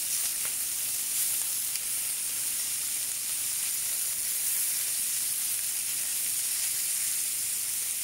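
Peri peri chicken sizzles steadily in a hot pan, a continuous bright frying hiss that stays close and even throughout with no voices over it.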